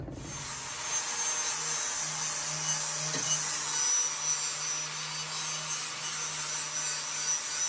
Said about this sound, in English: got to do some deburring and beveling some edges, getting ready for welding. So I got a nice shiny brand new 40 grit flat disc.